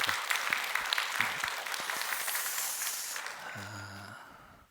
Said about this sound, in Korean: 우리 한번 감사의 박수하시겠습니다